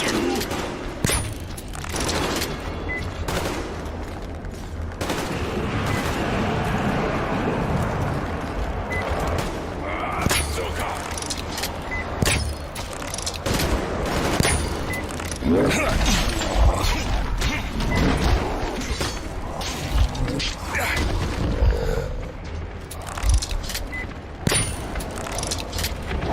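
Scattered gunshots and crashing impacts in a video game firefight against mutants, irregular cracks and thuds spread across the whole stretch under steady background noise.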